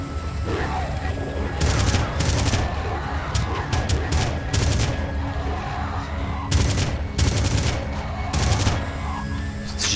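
Sniper rifle fire in the video game Red Faction on PS2, a rapid string of loud sharp shots in clustered bursts over a steady noisy background, with someone speaking intermittently underneath.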